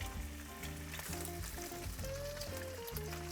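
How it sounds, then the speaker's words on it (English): Garlic and salmon sizzle steadily in extra virgin olive oil in a pan for salmon tagliatelle, a close, continuous frying crackle under soft background music. "The garlic are frying and now it's the time to put the salmon inside."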